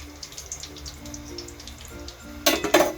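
Prawn chops frying in hot oil, a soft sizzle under faint background noise that swells into a louder, bright crackling burst near the end as a new batch hits the oil, close by.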